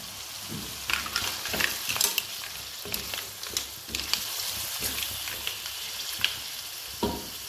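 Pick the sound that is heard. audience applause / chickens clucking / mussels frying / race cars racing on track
mussels frying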